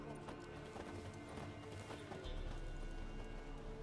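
Roach, the horse in The Witcher 3, trotting with steady hoof clip-clops under the game's ambient music, moderately loud and continuous with a heavier low rumble toward the end.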